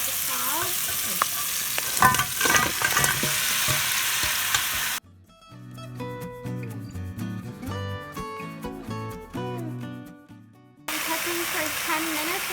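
Crab with fresh green onion, celery and thyme seasoning frying for a Trini curry crab, giving a loud, steady sizzle broken in the middle by a stretch of music before the frying returns.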